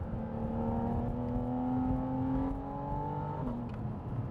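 Porsche Boxster Spyder engine heard from inside the car, a smooth steady drone climbing in pitch as revs rise, dipping briefly near the end, clear and continuous with no talk.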